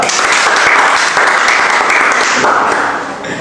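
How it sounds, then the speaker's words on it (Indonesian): Applause from a podcast's studio audience to open its first episode, a dense, steady patter of clapping lasting a few seconds before easing off at the end. "Tepuk tangan dulu dong"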